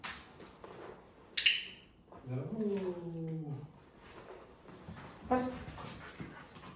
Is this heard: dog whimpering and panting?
yes